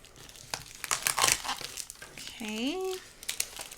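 Wrapping of a junk journal package being cut open, with crinkling and tearing rustles in bursts over the first half, close and moderately loud, followed by a brief spoken word.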